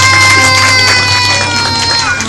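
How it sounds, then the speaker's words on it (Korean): A church congregation claps in praise to God after a prayer, loud crowd applause and cheering over a steady sustained musical tone, with scattered voices mixed into the noise. "우리 하나님께 영광의 박수"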